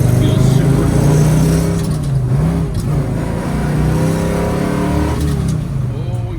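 1965 Chevrolet Chevelle Malibu coupe with a 500 hp 454 LS7 big block, its engine droning loud and close with rising and falling revs through gear changes, a voice faintly talking over it.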